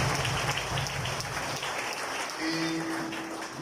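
Applause from a congregation during a church service, soft scattered clapping that thins out over a few seconds, with a faint hum and a voice audible under it.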